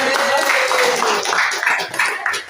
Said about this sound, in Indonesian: Oke, tepuk tangan untuk mereka.